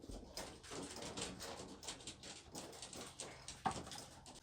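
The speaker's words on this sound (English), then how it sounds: "Right, so we've got birds flying out everywhere." Pigeons bursting out of a loft: a fluttering jumble of wingbeats and rustling, faint and somewhat distant, with a sharper knock near the end.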